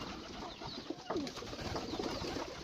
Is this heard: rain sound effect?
no